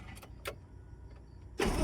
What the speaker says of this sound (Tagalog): paandarin ang truck